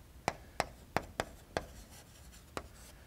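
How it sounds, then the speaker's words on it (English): Chalk or marker strokes on a lecture board during an arithmetic geometry talk, about six sharp taps and scratches spaced irregularly, fairly close with no talk over them. "Let me write it explicitly."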